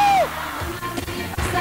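Children shouting and cheering on a 1991 TV game show, a burst of excited yells and whoops with bangs and studio noise mixed in.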